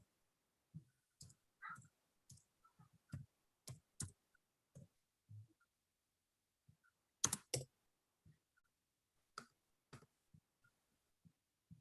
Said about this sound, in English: I'm typing in abandoned land.